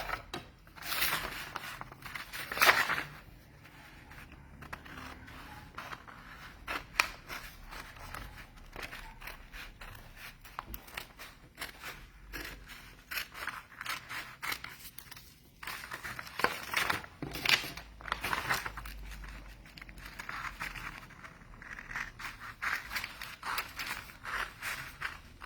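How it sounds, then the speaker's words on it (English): Scissors snip continuously while cutting out a circle, with irregular crisp crunching cuts and small handling noises, close and fairly quiet, no talking. "I'm going to cut this circle out."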